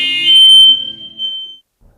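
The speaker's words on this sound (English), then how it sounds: "Our smoke alarm went crazy. It just went crazy." A shrill, piercing smoke alarm, set off by the oven, beeps loudly in two long tones, then cuts off, leaving near silence.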